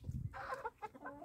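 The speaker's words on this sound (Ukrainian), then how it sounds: "Воно півник, який чубатий, гарненький." A crested rooster and hens cluck in a backyard country coop, a few short soft clucks close by and fairly quiet.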